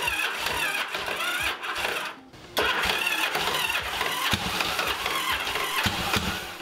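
A Yamaha XV750 Virago motorcycle engine cranks and catches, briefly dips, then roars into a loud, continuous, rough running rumble close by.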